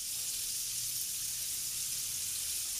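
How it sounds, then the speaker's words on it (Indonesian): Food frying in hot oil makes a steady, dense sizzle that holds evenly and loudly throughout, with no voices over it. "Langsung lanjut kita goreng di minyak yang udah panas."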